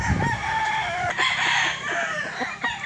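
A Spartan Black gamefowl rooster at a gamefarm crows nearby, one full cock-a-doodle-doo call rising and falling, with faint clucking and farmyard noise around it.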